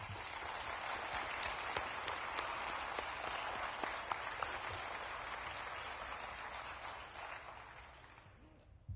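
Applause from the audience at a used car dealers' association leadership awards ceremony, a rapid patter of many hands heard from a distance that carries on steadily before tapering off near the end.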